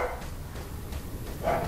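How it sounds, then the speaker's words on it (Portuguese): Dogs bark in a Resident Evil 4 mod, a few short yelps near the start and a louder burst near the end, over low game ambience. "os cachorros não estão facilitando"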